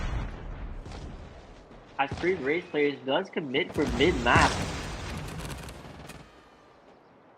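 Gunfire in a competitive shooter video game at an esports match, a burst of rapid shots and a sharp vehicle explosion under excited caster commentary.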